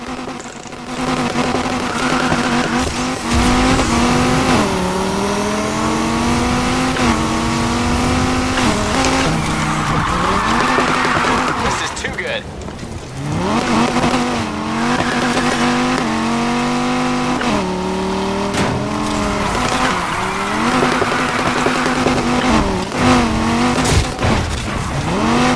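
Car sliding through a long drift with sustained tire squeal in Need for Speed Heat, the engine revving and whining in rising and falling pitch throughout, loud and continuous.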